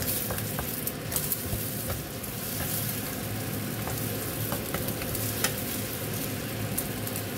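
Scrambled egg and tomato fry and get stirred in a pan, giving a steady close sizzle with small crackles and pops and frequent light scrapes of the utensil, unbroken and without talk.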